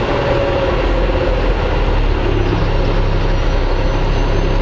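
Trucks idle at a roadside inspection stop, giving off a steady, loud low diesel rumble with broadband road noise, unbroken and without speech.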